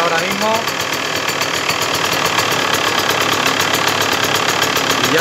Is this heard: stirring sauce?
no